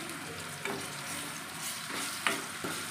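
Ginger garlic paste is stirred in a frying pan over a steady loud sizzle, with a few scraping strokes of the spoon against the pan, close up and without talk.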